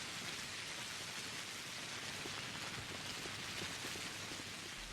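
Rainfall in the video game Pathologic, a soft steady patter of drops on surfaces, faint and continuous with no voices over it.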